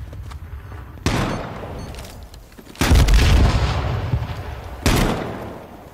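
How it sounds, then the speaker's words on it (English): Grenades exploding in a multiplayer shooter game: a loud blast followed by heavy rumbling booms and scattered gunfire, with more sharp bangs spread across several seconds and no speech. "He threw a nade."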